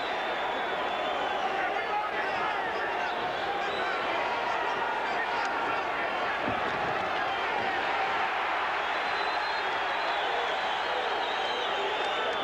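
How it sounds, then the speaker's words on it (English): In the final seconds of a Hector Camacho vs. Ray Mancini boxing match, a large arena crowd roars and cheers in a dense, continuous wash, with a commentator talking over it. "The crowd will respond in the final seconds"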